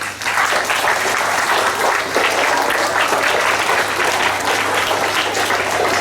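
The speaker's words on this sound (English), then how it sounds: "Clap for yourself again." Many children clap together in sustained, dense applause at a school assembly nearby, steady and loud for several seconds.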